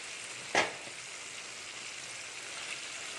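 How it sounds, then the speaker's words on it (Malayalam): Chicken roast sizzles steadily in a frying pan, with a single sharp scrape of stirring near the start, then continuous close, even frying hiss with no talk. "പിന്നെ നമ്മൾ ഇടക്കൊന്ന് ഇളക്കി കൊടുക്കുക"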